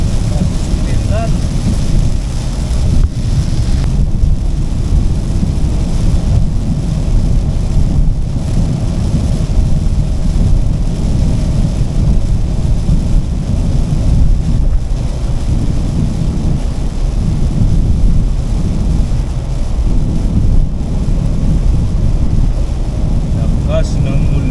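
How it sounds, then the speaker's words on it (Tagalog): Heavy rain with thunder drums steadily over a travelling vehicle on a road trip near Pampanga, a loud, continuous wash of noise with wind buffeting and low rumbles throughout, people talking faintly underneath. "Lakas ng ulan."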